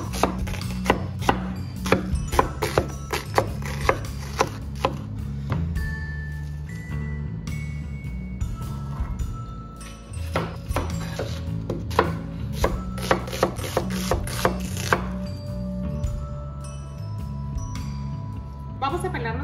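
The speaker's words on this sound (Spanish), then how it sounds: "Vamos a picar nuestra cebolla." An onion being chopped with a knife on a board for a shrimp escabeche: quick, crisp repeated cuts in bursts, close and loud, with a voice and steady background music underneath.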